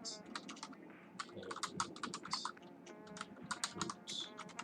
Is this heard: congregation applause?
no